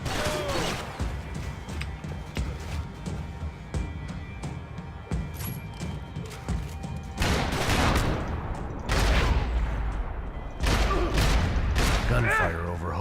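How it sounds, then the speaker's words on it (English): Dense bursts of gunfire and crashing impacts from the video game Max Payne 3, set over Hoboken, rattle on continuously, growing louder and heavier in the later stretches, with a voice talking underneath. "Gunfire over Hoboken."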